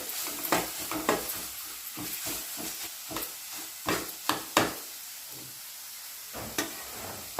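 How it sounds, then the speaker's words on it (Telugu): Cumin-fenugreek powder and ginger garlic paste stirred in a pan for a tomato dry fish curry, a soft sizzle broken by a run of sharp spatula scrapes and taps, some clustered, others spaced apart. "ఇప్పుడు ఇందులో జీలకర్ర మెంతుల పొడి అల్లం వెల్లుల్లి పేస్ట్ వేసుకొని పచ్చివాసన పోయేంత వరకు కలుపుకోవాలి"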